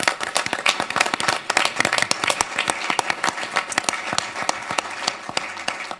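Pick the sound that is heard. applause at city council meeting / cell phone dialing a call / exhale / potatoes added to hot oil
applause at city council meeting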